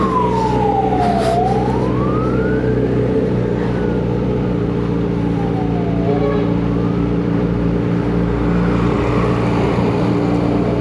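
An ambulance siren wails in the distance, its pitch sweeping down and up a few times over a steady rumble of traffic and engine noise.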